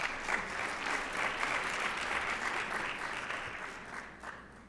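A conference audience gives the panel a sustained round of clapping, a thick even wash of hand claps from a full room that tapers slightly toward the end.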